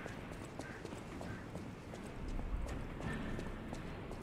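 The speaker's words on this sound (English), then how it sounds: "This horse is in the way." A horse in the video game Lies of P makes quick clip-clop hoof sounds in a steady run, faint and close, over a dense rumble of game ambience.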